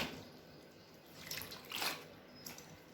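Turmeric-dyed cloth is lowered into cold water, giving faint soft splashes and trickling drips, with a couple of brief sloshing swells in a quiet room.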